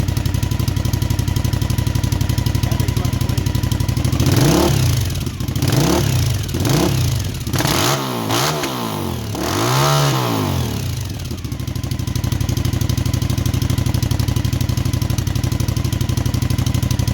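An SU3 reverse trike engine runs outside, loud and steady at idle, then revs up several times in rising and falling surges before settling back to a constant idle, with no voices.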